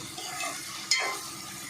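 Frying in a pan while cooking palak paneer, a soft steady sizzle with a brief scraping stir partway through, close and moderately quiet.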